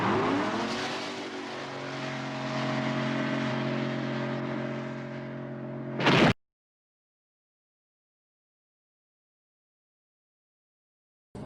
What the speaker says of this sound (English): they've just seen Lenny go over the cliff down